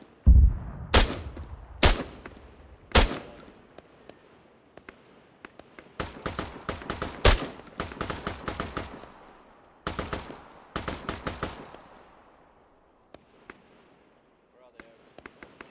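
Gunfire in Arma 3: three spaced single shots, then several rapid bursts of sharp cracks echoing at mid distance, separated by quieter gaps where people talk over radio.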